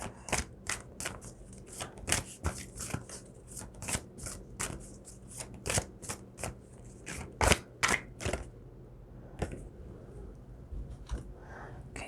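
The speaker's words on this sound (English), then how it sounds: "Sorry guys, I gotta shuffle back here." Tarot cards are shuffled up close in a long run of crisp, irregular riffles and snaps, mostly alone, with faint background noise.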